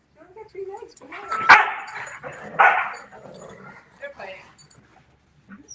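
A dog makes playful whining, grumbling vocalizations in several bursts, close by, with some quieter sounds between.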